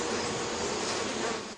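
Honeybees work flowers for pollen, a steady, close, dense buzzing that holds unbroken throughout with no voices.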